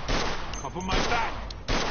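Gunfire in the video game Mafia II, a few sharp shots and a burst breaking through a noisy firefight while voices speak between the shots.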